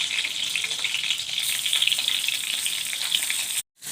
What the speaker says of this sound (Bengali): এগুলিকে এখন কড়াতে একটা একটা করে ফ্রাই করে নেব।